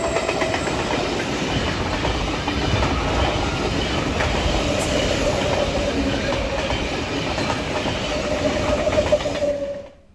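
A four-car NSW TrainLink V set train passes on the up semi-fast line, a close, steady rumble with rhythmic clickety-clack from the wheels that holds loud for ten seconds before dropping away.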